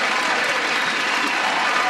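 Steady, dense applause from a studio audience, loud and continuous for a couple of seconds, with no breaks or single claps standing out.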